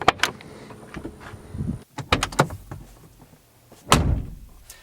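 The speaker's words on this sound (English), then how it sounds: "when you click the outside buttons, it's just this heavy, heavy lock that just gets released, and you close it" Heavy door lock releasing and the door shutting on a Mercedes G550 4x4 Squared, a series of sharp mechanical clunks and thuds with a solid slam near the end, recorded close by.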